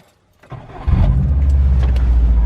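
A Subaru WRX with a suspected misfire cranks briefly and catches, then settles into a loud, steady idle close by.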